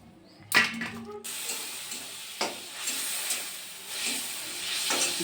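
Prawns dropped into hot oil with onions, sending up a sharp hiss of frying that settles into a continuous sizzle with occasional swells and scraping.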